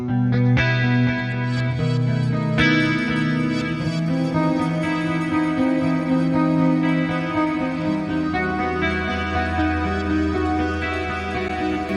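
Eight-string electric guitar with a clean tone from the Archetype: Petrucci, washed in delay and reverb: a continuous flow of picked notes and chords with trailing echoes, full and steady throughout, no voices.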